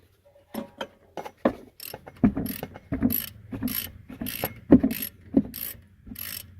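Ratcheting clicks from tightening the rear brake bolts on a 2012-2017 Mazda 5, a close series of short mechanical bursts in quick irregular rhythm with no talking.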